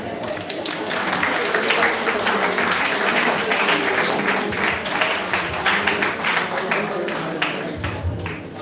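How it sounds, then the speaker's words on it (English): Applause from the audience at a primary school graduation ceremony, dense and steady clapping that fills the whole stretch at strong, even loudness. "Let's put a round of applause on this thing"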